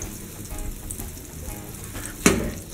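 Butter sizzles steadily in a frying pan with a soft, crackling hiss, then a sharp clatter near the end as something is stirred or moved in the pan.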